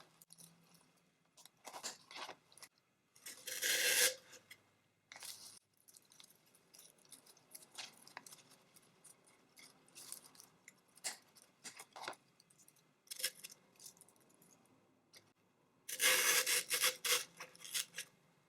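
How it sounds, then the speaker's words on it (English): Scissors snip Dollar Tree paper napkins for a decoupage glass vase, giving close, crisp cutting and rustling in irregular bursts with quiet gaps, the loudest runs early and near the end. "so I'm going to cut some of these off."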